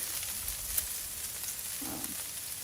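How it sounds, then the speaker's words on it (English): Bacon and potatoes fry on a Blackstone griddle, a steady close sizzle with small crackles and a faint scrape of a spatula, no voices. "We'll get so that these potatoes are nice and cooked. And the bacon's pretty much cooked."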